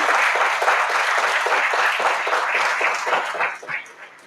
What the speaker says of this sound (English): give your loved ones a round of applause for the work they've done